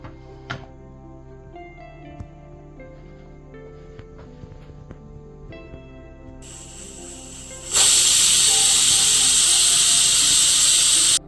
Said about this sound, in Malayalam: കുക്കറിന്റെ എയറൊക്കെ പോയിട്ടുണ്ട്